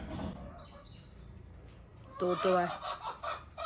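Chickens cluck in a short burst of close, loud calls late in the moment, following a quieter stretch of faint background noise.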